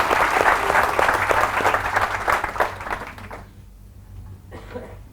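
An audience applauds during a motivational talk, steady dense clapping from a seated crowd that fades out midway, leaving a quieter room with a brief voice near the end.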